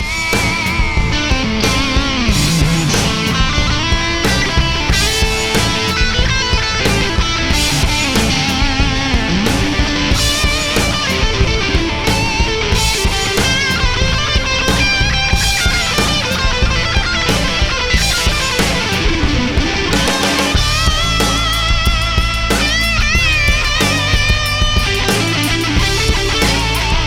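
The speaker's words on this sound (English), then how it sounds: "This is the Behringer OD300 overdrive distortion pedal." Loud, continuous electric guitar through a Behringer OD300 overdrive distortion pedal playing a song, thick and gritty throughout with steady strumming and no pauses.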